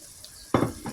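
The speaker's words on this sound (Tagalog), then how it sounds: "Lalagyan ko na ito ng tubig." Water poured into a hot pan of browned pork chops, loud sizzling and bubbling that bursts in at once and keeps hissing, with a second surge near the end.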